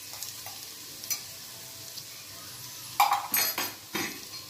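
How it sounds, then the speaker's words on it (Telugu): Spices and mint frying in a pan for paneer pulao, a soft steady sizzle under sharp metallic clinks and scraping stirs of a utensil against the pot, louder toward the end. "పుదీనా వేసుకొని బాగా వేయించుకున్నామండి కాసేపు"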